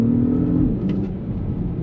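Car engine with an S-tronic gearbox droning loudly inside the cabin during a downshift, a steady hum that dips slightly, no talking.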